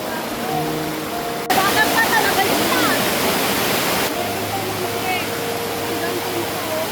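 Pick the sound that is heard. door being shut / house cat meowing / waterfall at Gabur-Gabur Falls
waterfall at Gabur-Gabur Falls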